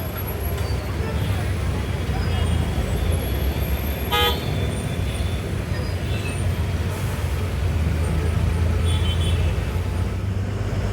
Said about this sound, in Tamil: இந்த ட்ராவல்ஸ்லாம் நிற்கிறதுனால செம டிராஃபிக்குங்க